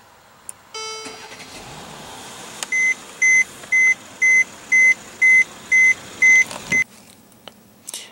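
A 2015 Mercedes-Benz E350 with a 3.5 L V6 is started by push button; the engine catches and settles into a steady idle while a chime beeps about eight times in an even rhythm before everything cuts off.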